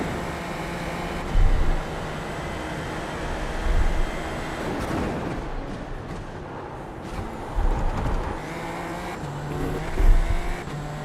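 A race car engine from a racing simulator game drones steadily for the whole stretch, with a few louder surges and passing swells, and no voices over it.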